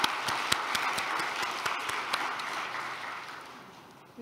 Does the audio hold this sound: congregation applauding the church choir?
yes